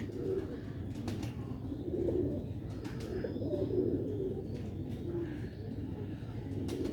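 Pigeon chicks of the Sialkot Aliwale breed cooing steadily nearby, a low continuous murmur of soft coos running through the whole stretch.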